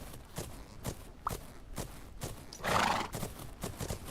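A horse canters in the video game Fernhoof Grove, hooves clip-clopping in a quick steady rhythm with a brief whinny partway through, close and clear with no talking.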